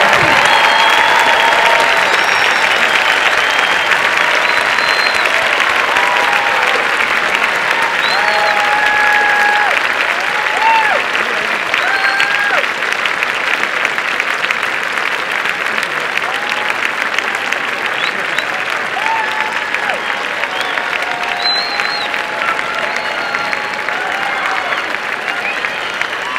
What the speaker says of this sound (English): join me in applauding this outstanding cohort of Berkeley engineers